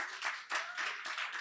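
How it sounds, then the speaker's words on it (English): Audience applause at a cannabis and CBD industry talk, a short burst of scattered clapping in uneven waves, fairly close and moderately loud, with no voices over it. "Sorry to cut the applause short."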